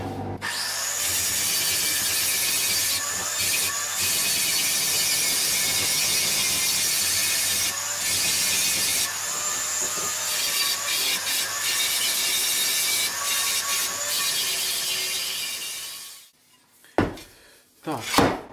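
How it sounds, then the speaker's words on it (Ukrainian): A steel bascinet helmet is abraded with a stone, then with sandpaper, giving a loud, continuous metallic grinding and scraping close up with brief pauses. Near the end it gives way to a few clanks and knocks. "я трошечки зіб'ю каменем, ну і потім вже наждаком шліфувати"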